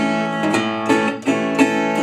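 Acoustic guitar strumming a country rhythm from a song, steady chord strokes with bright ringing strings, close and clear with no voices.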